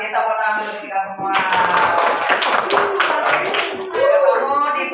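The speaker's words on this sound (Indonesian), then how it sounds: "tepuk tangan untuk kita semua" A fourth-grade class claps hands together at the close of a Pancasila education lesson, a burst of clapping beginning after about a second and running under children's voices and chatter in the classroom.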